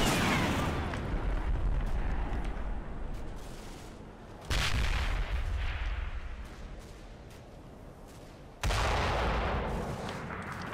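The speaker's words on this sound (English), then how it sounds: "Getting a bit mortared there." Mortar rounds landing in a Combat Mission wargame: three sharp, loud impacts a few seconds apart, each followed by a long rumbling tail that slowly fades beneath continuous battlefield noise.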